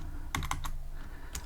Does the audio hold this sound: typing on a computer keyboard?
yes